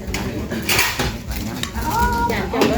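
Metal cooking pots clank and scrape as they are handled during outdoor morning cooking at a temple, with irregular clatters and knocks close by under people talking.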